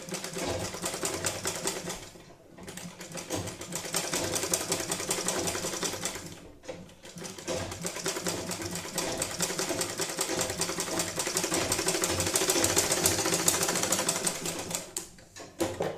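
Sewing machine stitching the pleats of a Tikali hat, a fast continuous mechanical whirring and clatter that runs for long stretches with two brief pauses, close and steady, no talking.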